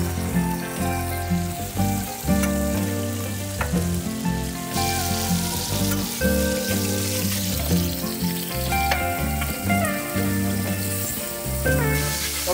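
Burgers fry in olive oil on a flat griddle with a loud, dense sizzle and crackle, continuous throughout, while music plays underneath.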